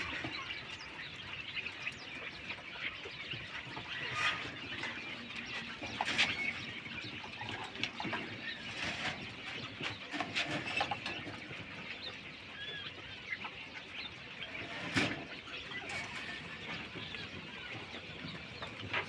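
King quail kept on a small farm, with a hen sitting on eggs, chirp and twitter continuously in soft, quiet, overlapping calls, with a few slightly louder peeps standing out.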